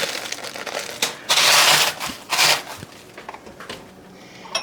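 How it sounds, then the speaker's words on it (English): A drinking glass is rolled over food to flatten it, giving close rough crunching and crinkling bursts, two louder sweeps in the middle and softer scraping around them, with no talk. "I just get a glass and roll it"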